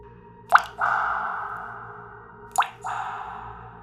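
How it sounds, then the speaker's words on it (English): Two distinct water drops plop into a pool, about two seconds apart, each leaving a ringing resonant tail in a quiet hotel bathroom at night. "Water dripping from the bathroom."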